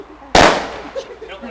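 One sharp firecracker bang goes off on Bonfire Night outdoors, loud and close, then trails into a short fading crackle with faint voices in the background.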